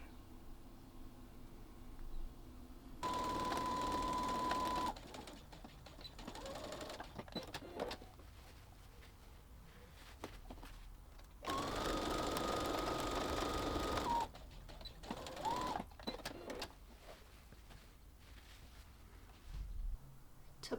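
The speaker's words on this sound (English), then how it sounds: "We will now take it to the sewing machine and we'll sew the outside edges of our bag" A sewing machine stitches the outside edges of a fabric tote bag, running in two steady bursts of a few seconds each with quieter handling and pauses between.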